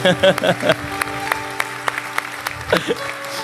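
Scattered clapping from a church congregation rises and fades, mixed with voices and a sustained musical tone in the background.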